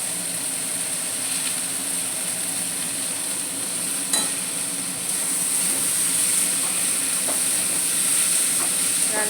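Chicken stirred in a pan with tomato, coriander leaves and peas for a leftover-rice breakfast, a steady close frying sizzle and hiss with soft stirring scrapes throughout.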